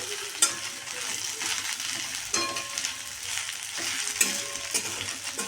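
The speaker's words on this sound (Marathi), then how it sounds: "शेवग्याची पानं टाकून घेऊया नीट केलेली याला पण छान असं परतून घ्यायचं आहे" Drumstick leaves sautéed in a pan, soft continuous sizzling with a few sharp scraping stirs of a spatula against the pan, close by and without talk.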